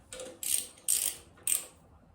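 A ratchet wrench snugs the cylinder head bolts on a Triumph TR6 engine, with three short bursts of rapid clicking separated by brief pauses. The clicks are close, crisp and alone.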